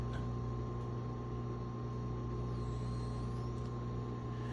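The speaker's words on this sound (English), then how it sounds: "whatever noise you just heard, that's from the ice maker" A GE Profile Opal 2.0 XL countertop nugget ice maker runs alone in a quiet kitchen, giving a faint, steady hum and whir with a constant low drone.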